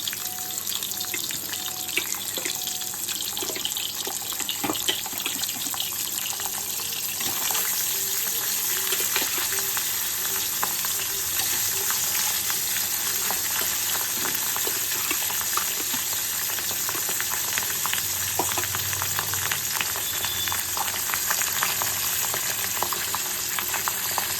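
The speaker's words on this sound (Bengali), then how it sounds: "একে একে এবার মাছগুলো ভেজে নিই" Fish pieces fry in hot oil over a raised flame, giving a loud, unbroken crackling sizzle that holds steady throughout without any talking.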